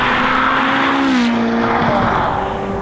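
A Ferrari 458 Speciale's naturally aspirated V8 sings loud and close, a steady high engine note sliding down slightly in pitch and then holding, with a faint squeal of tires mixed in.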